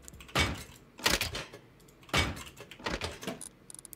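In a survival game base, doors are shut and sealed, giving four close, sharp sliding clunks spaced about a second apart, each with a brief rattling tail, and no talk over them.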